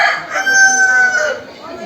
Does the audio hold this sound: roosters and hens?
yes